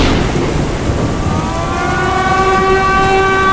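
Flood siren sounding through a rainstorm: a steady wash of rain noise with a rising, sustained wailing siren tone emerging and holding toward the end, no voices.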